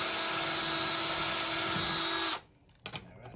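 A power drill fitted with a tile bit grinds steadily into bathroom tile with a loud, even whine for about two seconds, then cuts off abruptly, followed by a short clatter.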